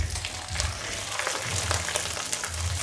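Garlic fries in a pan for aloo methi, a steady close sizzle with soft stirring scrapes and low bumps throughout.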